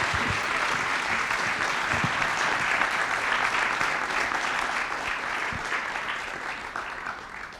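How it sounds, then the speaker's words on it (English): Audience at a talk on science and God breaks into sustained applause, a dense wash of clapping that holds steady and slowly tapers off near the end. "Could we just give a round of applause to Sam?"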